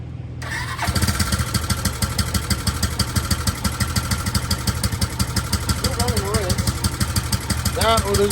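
An abandoned motorcycle cranks and catches after a jump start, then runs at a fast, steady idle with a pulsing exhaust beat, close and loud, with voices briefly audible over it near the end.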